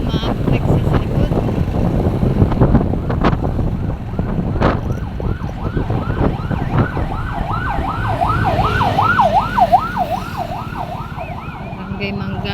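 An ambulance siren wails from behind amid road traffic noise, starting faint and growing into a clear, rapidly cycling up-and-down tone, with scattered clunks and bumps throughout.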